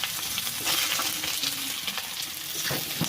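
Chopped onion frying in hot mustard oil, a dense, close sizzle with bursts of crackling that swell and ease over a few seconds.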